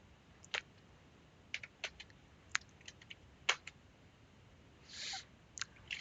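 Sparse, quiet keyboard clicks tapping out in irregular bursts, with a brief soft rustle near the end.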